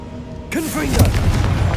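A deep, booming blast from the Confringo blasting spell in Hogwarts Legacy hits suddenly and loudly, then rumbles on steadily. A voice can be heard over the explosion.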